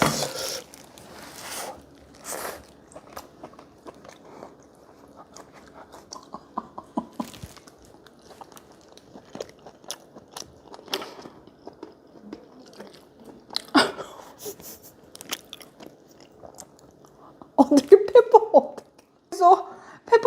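Close, wet chewing and biting of tender boiled pork belly (suyuk) cooked without water, with soft mouth sounds and occasional knife and plate clinks, someone speaking in Korean between bites.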